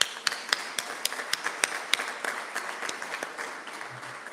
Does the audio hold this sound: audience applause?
yes